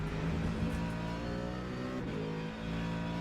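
A McLaren race car engine holds a steady high-revving drone in Le Mans Ultimate, heard close and continuous with a brief dip in pitch partway through.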